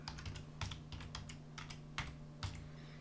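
A computer keyboard is typed on softly at close range, giving a light, uneven patter of clicks over a faint steady hum with no talking.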